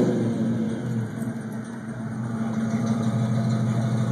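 A carbureted car engine with two-chamber Flowmaster exhaust idles with a deep, loud steady rumble, revving slightly upward toward the end, with no speech over it.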